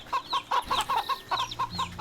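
Chickens in a video game cluck repeatedly in quick, bouncy bursts, a steady run of close, clear calls with no talking.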